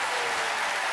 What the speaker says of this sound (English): Give our guys a round of applause.